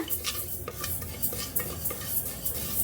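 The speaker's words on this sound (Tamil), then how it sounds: "ரவை பொன்னிறம் ஆகிற அளவுக்கு வறுத்து எடுத்துக்கலாங்க" Semolina and moong dal being roasted and stirred in a cooker, a spoon scraping and rattling against the metal pot in irregular strokes, close and fairly quiet, with no talk.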